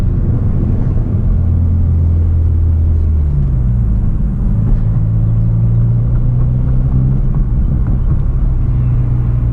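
A Hyundai Veloster N drives steadily with a loud, deep engine rumble and road drone heard from inside the car, the pitch shifting as it changes speed, with no talking.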